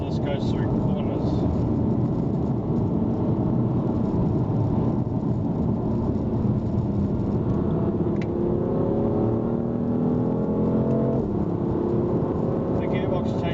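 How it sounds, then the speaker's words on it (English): A BMW M3 drives on a coarse chip road through corners, its constant loud tyre roar and engine drone filling the cabin, with a rising engine pitch midway as it pulls out of a bend. "Here because we've got coarse chip roads. We're about to see how well this goes through corners."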